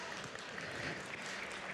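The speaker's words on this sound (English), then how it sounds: "good, applause" A crowd at a Messari Mainnet 2022 panel on US policy gives a steady, fairly faint round of applause that holds at an even level throughout, with no voices standing out.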